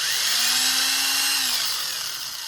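A power drill bores a small 1/4 inch hole in a cigar box guitar, a bright whining motor at steady pitch for about two seconds, close and loud, easing slightly at the end.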